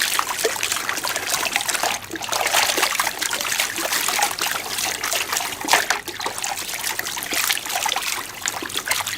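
Water sloshes and trickles steadily as limonite rock is panned for gold, a loud, continuous, close-up swirl and splash that goes on without a break.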